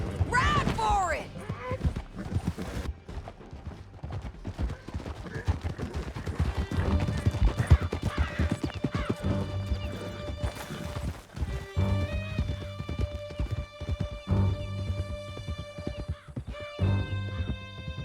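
Horse hooves gallop in Red Dead Redemption 2 as a rapid, continuous clatter under a tense musical score, with scattered gunshots and shouted voices over the top; the pounding continues throughout, moderately loud.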